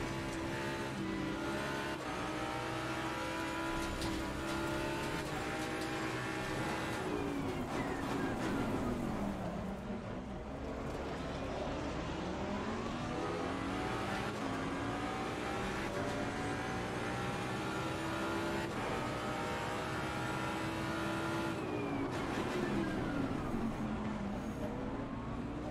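Race car engines roar continuously in Assetto Corsa Competizione, with rising and falling revs through gear changes, loud and close from a first-person ride-along, with occasional tire squeal.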